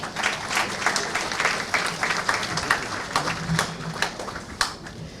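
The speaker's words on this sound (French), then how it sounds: "Je vous demande de les applaudir." An audience at an official speech applauds health teams, steady clapping from a crowd with individual claps standing out, holding at moderate loudness throughout without speech.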